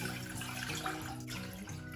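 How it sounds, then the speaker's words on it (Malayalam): Two glasses of water pour in a soft, continuous stream into a vessel for ajwain water, fairly quiet and unbroken, with no one speaking. "2 ഗ്ലാസ് വെള്ളം നമുക്കൊരു പാത്രത്തിലോട്ട് ഒഴിക്കാം."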